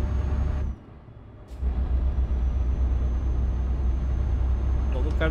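A MAN TGX truck in Euro Truck Simulator 2 rumbles steadily with a deep engine drone, briefly dipping before returning to a constant low hum, with faint clicks near the end.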